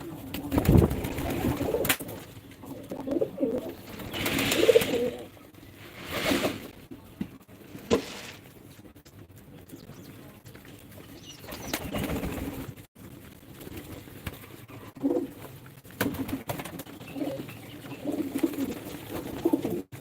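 Rajshahi Giribaj and racer pigeons coo softly in repeated low, throaty bursts, with occasional rustling between calls, fairly close.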